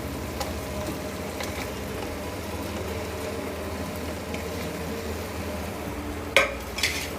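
A spoon stirs fried arbi (taro root) into gravy in a pan, a steady low scraping and soft bubbling throughout, with two brief metallic clinks near the end.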